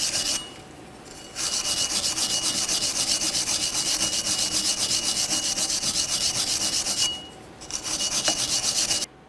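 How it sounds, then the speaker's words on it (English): A sanding disc or wire brush scrubs the rear wheel hub surface of a 2004-2006 Scion xB during a brake job, a steady loud abrasive rasping that runs continuously with brief pauses near the start and end. "Now let's continue on with a sanding disc or a wire brush."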